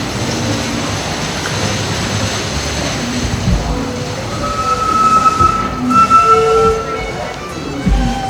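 Steady rumble and rattle of a small amusement park train ride at Busch Gardens Williamsburg during its Christmas celebration, with occasional metallic squeals and faint crowd noise in the background.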